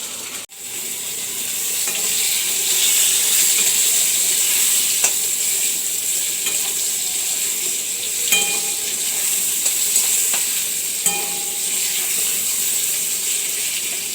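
Chopped tomato, onion and chilli hit a hot pan and fry with a loud, steady sizzle throughout, with a few brief clinks partway through and no one talking.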